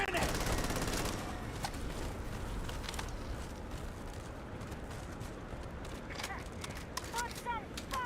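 Continuous sci-fi gunfire in the video game Starfield, a steady dense crackle of shots and impacts through a firefight, with occasional sharper bursts near the end.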